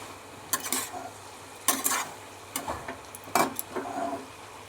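Spices are sautéed with flat beans, potato and shrimp in a pan, the spatula scraping and clattering in irregular bursts over a low, steady sizzle, with no one speaking.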